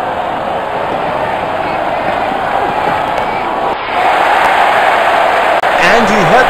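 A stadium crowd roars continuously in the Real Cricket 19 Android cricket game, a loud, sustained wash of cheering that swells midway through.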